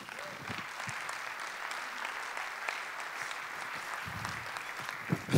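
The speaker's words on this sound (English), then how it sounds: "big round of applause for Hector Minto" Conference keynote audience gives a round of applause to welcome a speaker, a fairly quiet, even patter of clapping held throughout, with a few louder bumps near the end.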